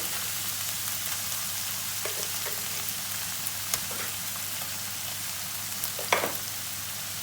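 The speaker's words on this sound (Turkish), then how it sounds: "Kıymamızı güzelce dağıta dağıta kavurdu." Minced meat fries in a pan with a steady, close sizzling hiss throughout, broken only by a few small clicks and spatters from stirring.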